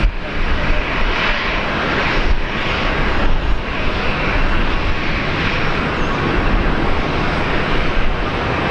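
A Fokker aircraft departs Brisbane Airport, its engines a loud steady roar filling the whole stretch with a broad, constant rumble and no voices.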